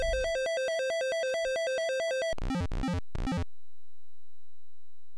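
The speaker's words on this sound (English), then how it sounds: "a fire alarm, a fire truck, a police siren, and then 3 bloop, bloop, bloop, 3 gunshots" Electronic sounds from a shareware video game: a rapid alternating beeping fire alarm tone, followed by three short bursts of synthesized gunshot noise, then silence.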